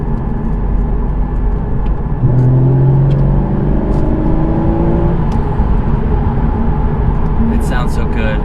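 2013 Porsche Boxster with a naturally aspirated engine accelerating in fourth gear, heard from the cabin as a rising engine note swells partway through while the driver keeps talking over it.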